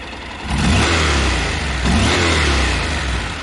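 A Honda NC700S motorcycle engine revs up loudly nearby, rising in pitch twice in quick succession before holding at a high, rough roar.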